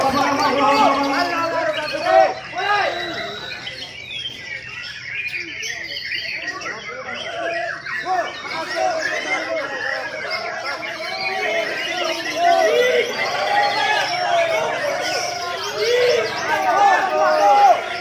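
A white-rumped shama sings a varied, melodic series of whistles and chirps, fairly close, with other faint bird calls and background chatter around it.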